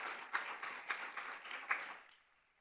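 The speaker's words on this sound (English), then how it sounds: "we should give our student leaders another round of applause" An audience claps for student leaders at a sustainability session, a soft brief round of applause with a few sharper claps that fades away after about two seconds.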